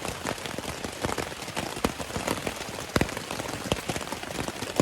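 Steady rain patters on a tent nearby on the Appalachian Trail, a dense, continuous hiss broken by louder individual drops.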